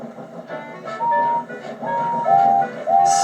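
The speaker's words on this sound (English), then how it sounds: "from far away an engine whistled" Steam engine whistle in a Thomas the Train episode, several short high tooted blasts in a row, clear and fairly loud, over faint background music.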